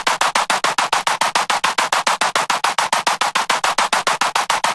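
Growl bass from an electronic music track, rapid evenly pulsing throbs repeating about six times a second, loud and up front, with no voices.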